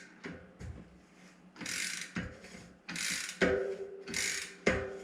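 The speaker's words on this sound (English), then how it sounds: "Now we'll take our special wrench adapter, just put it, it will go like this." Rapid ratcheting clicks as a special wrench adapter tightens an SRAM GX Eagle cassette lockring on a bicycle hub, coming in several close, loud bursts separated by brief pauses.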